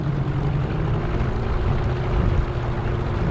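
Boat outboard engine and propeller churning through a shallow lagoon with the motor lifted nearly all the way up, a continuous loud low rumble close by, no voices.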